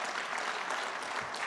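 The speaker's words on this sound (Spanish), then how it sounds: "Tenemos que darnos un aplauso por este gobierno que tenemos" Steady applause from a crowd at a political assembly, a dense even clatter of clapping that is fairly faint and continuous.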